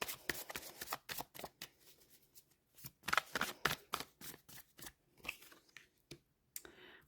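Tarot and oracle cards are shuffled by hand, close and soft, in a rapid stream of papery riffles and flicks with short pauses between bursts.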